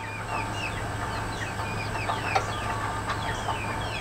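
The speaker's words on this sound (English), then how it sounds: "if I get out here and start talking, them chickens, they get really excited" Chickens cluck and squawk excitedly in a steady, busy chorus, with a few sharper calls and a possible distant crow standing out above a constant low hum.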